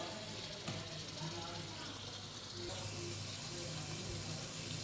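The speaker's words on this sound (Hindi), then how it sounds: "अब इसमें मैं चिकन शामिल कर दूंगी और चिकन की मैं अच्छे तरीके से भुनाई कर लूँगी कोई 10 मिनट तक" Chicken pieces being fried in a pan of masala produce a dense, continuous sizzle with some watery bubbling, loud and close throughout.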